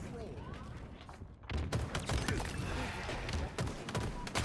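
Halo multiplayer gunfire crackles in quick, repeated bursts under a busy game soundscape, moderately loud, with a player voice talking over the shots.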